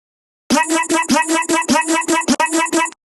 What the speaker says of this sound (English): so this is what it would sound like without any of the effects.